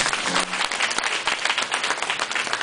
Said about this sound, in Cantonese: 好多謝你哋俾掌聲，你哋每一個。